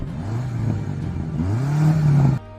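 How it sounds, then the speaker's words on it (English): Lamborghini SVJ with a 770-horsepower V12 revving hard, the engine note climbing in pitch through a loud, sustained rising howl before cutting off abruptly near the end. "That V12 engine screaming with 770 horsepower is pure madness, right?"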